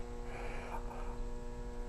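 Milling machine about 45 to 50 years old in good condition, running with a steady low electrical hum and drone, constant and moderately loud throughout.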